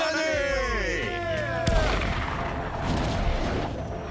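Celebratory gunfire at midnight on New Year, a loud crack and boom amid a roaring crowd and music, with a voice speaking over the din.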